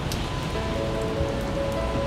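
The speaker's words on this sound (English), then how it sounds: "Now it's getting dark and also it's raining too much" Heavy rain falls steadily on the streets of Thessaloniki, Greece, at dusk, making a dense, constant hiss of drops landing on surfaces nearby.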